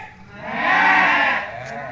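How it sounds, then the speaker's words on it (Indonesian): A goat gives a single drawn-out bleat, close and clear. The call swells in the middle and fades over about two seconds. "Kambing. Kambing."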